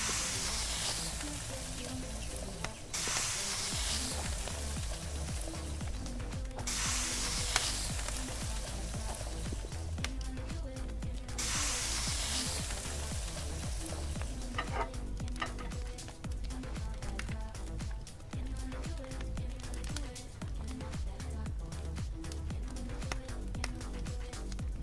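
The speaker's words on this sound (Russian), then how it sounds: "Жарим картошку, лук, ломтик картошки, ломтик лука, ломтик картофеля" Potato and onion slices sizzle while frying on a stove in the Kebab Chefs restaurant cooking game, a continuous hiss of frying with dense clicking and ticking interface sounds layered over it throughout.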